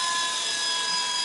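A small rechargeable toy helicopter flies with a continuous high-pitched rotor whine and motor buzz, loud and close, steady throughout with no pauses.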